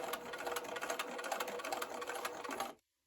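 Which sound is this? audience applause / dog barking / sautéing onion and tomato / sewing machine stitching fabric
sewing machine stitching fabric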